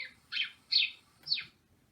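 Children's voices imitate house sparrow chirps: three short, bright, high chirps spaced about evenly, fairly faint over a soft background.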